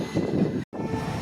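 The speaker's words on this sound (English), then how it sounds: "That's a short train." A short freight train rolling past at close range, a steady broadband rumble of wheels and cars with a brief sharp dropout partway through, no voices.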